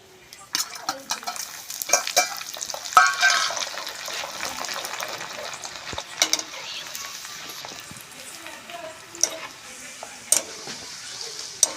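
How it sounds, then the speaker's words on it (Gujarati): Chopped garlic and whole spices sizzle in hot oil for a dal tadka tempering, a quiet steady fry broken by sharp scrapes and clinks of stirring in the pan. "હવે આપણે એની સાથે નાખી દઈશું આ જે આપણે લસણ કટિંગ કરીને રાખ્યું છે ને એ"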